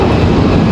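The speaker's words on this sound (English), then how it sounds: "A319 on the move." An Airbus A319 jet departing at Raleigh-Durham airport, a brief steady burst of loud engine roar with no talk.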